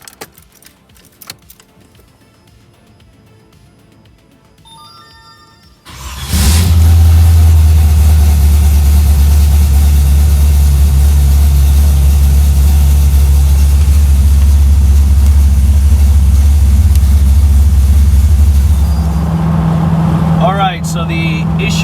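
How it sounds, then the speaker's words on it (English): A C3 Corvette V8 with an Edelbrock Pro Flo 4 fuel injection system cold starts after a quiet stretch and settles into a loud, steady low rumble at idle, with faint clicking before the start. "we're gonna do a cold start"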